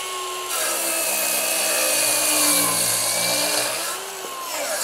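An 18-volt brushless plunge saw runs along a guide rail, cutting 50 mm construction material with a steady, loud, high-pitched whine that holds for about four seconds after a quieter start, close up.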